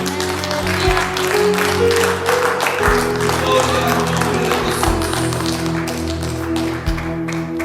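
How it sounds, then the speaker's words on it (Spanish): A church congregation applauds during a Spanish-language sermon, producing dense, continuous clapping with rhythmic thumps and crowd noise throughout, loud and close, with voices faintly underneath. "Denle un aplauso al Señor."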